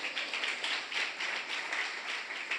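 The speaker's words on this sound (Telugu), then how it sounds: "గట్టిగా ఒకసారి చప్పట్లు కొట్టి ప్రభు నామాన్ని మహిమపడదాం." A church congregation at a Sunday worship service claps hands together, a dense, rolling patter of many palms in loose rhythmic pulses, steady and moderately loud throughout with no speech over it.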